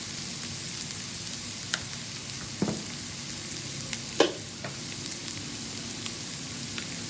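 Chopped onions, beans and carrot fry in a pan for bread crumbs upma with a constant hissing sizzle. A few sharp clinks and scrapes from stirring cut through it, and no voices are heard.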